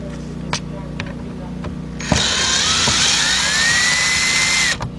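A power drill fitted with a Torx bit whirs loudly and steadily for about three seconds while backing out headlight assembly bolts on a 2007 Volkswagen Passat 2.0, after a few faint clicks and a quick start.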